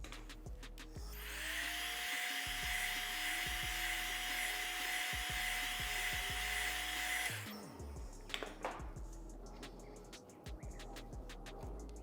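A heat gun blows steadily close by for about six seconds while warming a front bumper reflector on a BMW G87 M2, its airy whine and hiss cutting off abruptly, followed by light handling clicks and taps.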